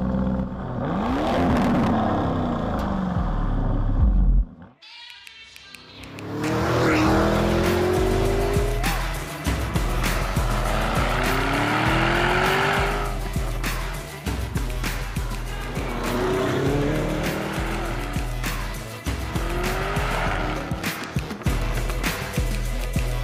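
A Lamborghini Urus in Anima mode accelerates hard with a deep engine roar climbing through the gears, tires squealing in sharp bursts, broken by a brief quiet gap before the loud run resumes.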